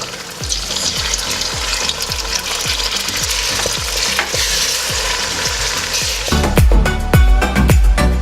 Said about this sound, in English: I'm also going to go ahead and add in my garlic.